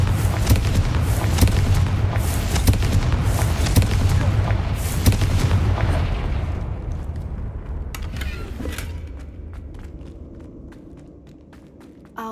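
A Confringo fire spell cast in Hogwarts Legacy erupts in a loud, roaring blast with dense rumbling that sustains for several seconds, then decays into scattered crackles, thuds and light footsteps.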